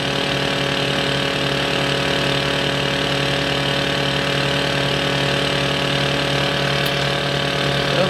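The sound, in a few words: simulated left aircraft engine running, ATC-810 flight simulator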